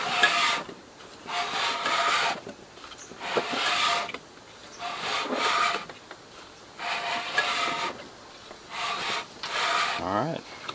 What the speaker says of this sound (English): I'm going to turn this up on its side so I can rotate the flywheel.